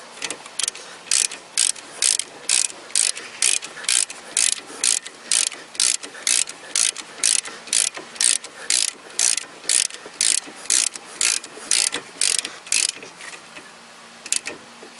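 Socket ratchet tightening the brake caliper bolts on an Opel Corsa, a steady run of loud, close, evenly spaced clicking strokes that continues for several seconds with no talk.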